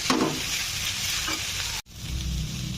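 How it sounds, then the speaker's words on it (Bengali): Ingredients for egg chicken Maggi noodles frying and being stirred in a pan, giving a bright continuous sizzle with scraping stir strokes and a brief cut midway, close and without talk. "এবারে ভালো করে সব ভেজে নিতে হবে।"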